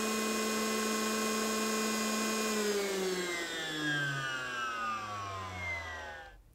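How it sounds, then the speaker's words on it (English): A DeWalt DCN890 cordless concrete nailer's motor whirs continuously at full speed in rapid cycle mode, a steady, close, humming whine whose pitch gradually sinks before it cuts off at the end. "the motor now continues to run at full speed"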